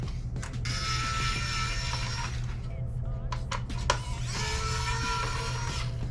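A Phillips screwdriver works out the small screws holding the fan in a PS3 Fat CECHG01 console, giving whirring, ratcheting mechanical bursts with a few light clicks between them over a low steady hum.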